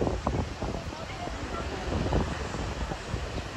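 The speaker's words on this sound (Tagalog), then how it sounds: "malakas ang hangin." Strong wind on a glass bridge roars and buffets the microphone in a steady, heavy rush with low gusty thumps throughout.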